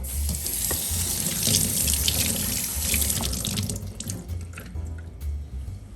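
Lobster tail meat is rinsed under a running kitchen tap, a steady close gush of water splashing into a sink with small drips and clatter throughout.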